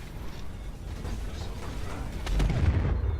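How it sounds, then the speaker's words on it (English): Missiles slam into an Avenger ship in Star Citizen's Arena Commander dogfight, a rumbling mechanical din swelling into a heavier, louder low boom toward the end. "let's actually put another 2 missiles into him"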